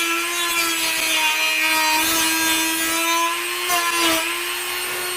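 A power saw blade trims a small bit of wood on a DIY ammo-box boom box, giving a steady, close, loud whine with buzzing overtones that dips briefly in pitch under load near the end, with no talking.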